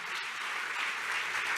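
A church congregation claps together in dense, sustained applause filling the room, steady and even throughout the short burst.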